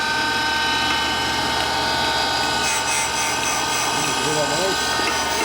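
A die grinder ports a Harley twin cam cylinder head for a 2017 110ci Dyna, whining steadily and loudly throughout while a voice speaks over it.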